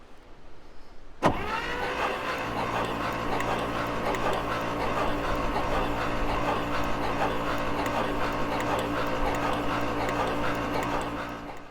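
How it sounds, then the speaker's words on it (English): Engine of a 1968 International 1500C dump truck, unstarted for years, begins cranking over after a sharp click, a steady rhythmic churning that continues evenly for about ten seconds before slowing, recorded close and moderately loud. "motor's cranking over decently"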